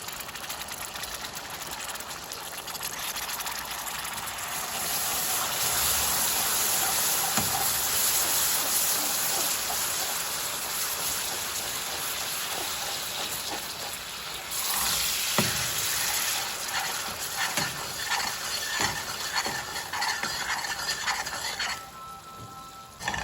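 Cream poured into hot caramel with melted butter, setting off a broad, steady sizzle that runs the whole time, swelling briefly midway and fading near the end, with no talking.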